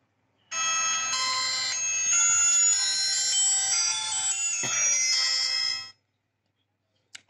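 An itel IT5606 phone plays its startup ringtone after being switched on, a bright chiming electronic melody lasting about five seconds and then stopping, with no talking.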